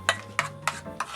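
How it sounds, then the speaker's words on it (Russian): A utensil stirs a spice mixture with salt in a bowl with four quick, evenly spaced scraping strokes, close and clear, with no voices. "Тоже все это хорошо перемешать."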